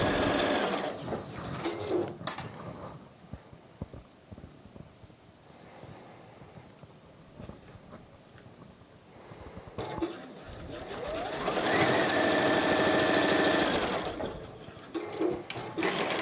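A domestic sewing machine runs in bursts, stitching fabric strips to the top and bottom of quilted leaf pieces for a bloom wall hanging. Short runs come first, then a longer steady whir near the end, with faint clicks between bursts.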